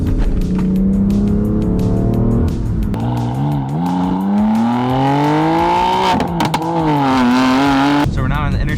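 A BMW M3's engine drones loudly and steadily throughout, its pitch rising and falling through gear changes as it accelerates.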